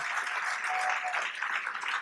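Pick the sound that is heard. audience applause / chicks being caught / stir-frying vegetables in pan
audience applause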